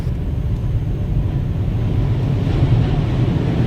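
Sea water surges and crashes against a ferry's hull, a heavy, continuous roar of waves and wind building toward the end, close and loud with no one speaking.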